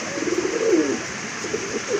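A pair of new adult Red Checker pigeons coo close by, giving a few soft, rolling, low coos at moderate volume over a constant background hiss.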